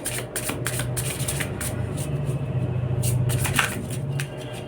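Tarot cards being shuffled and handled, a steady papery riffle and slap of cards that runs close and continuous for the whole stretch, with no voices.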